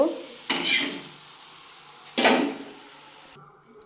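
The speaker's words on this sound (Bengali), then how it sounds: "এই যে আবারও মানে তেল দিয়ে দিয়েছি, যে ভাজা হচ্ছে" Fenugreek leaf paratha fries in oil. Two short bursts of sizzling and scraping sound against a quiet background, with a faint clink of pans near the end.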